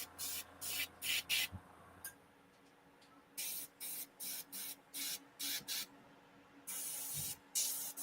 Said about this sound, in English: somebody's airbrushing